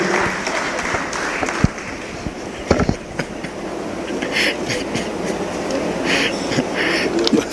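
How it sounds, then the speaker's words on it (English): Audience at a political parties award ceremony applauding, a dense sustained clatter of clapping throughout with a few sharper claps standing out. "Clap for me."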